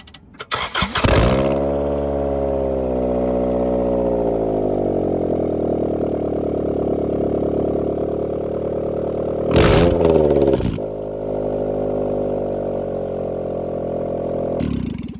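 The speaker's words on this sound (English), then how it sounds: "So I'm gonna start up the car, see how it sounds without the headers on. It's probably gonna be really loud." A Honda car with its headers removed cranks and fires up, then settles into a loud, raspy, steady idle with a couple of brief revs partway through, close and alone.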